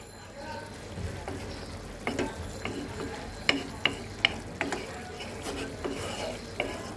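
Bele fish do-peyaja cooking in a pan gives off a low sizzle, broken by several sharp clicks and taps of a spatula against the pan, with no one talking.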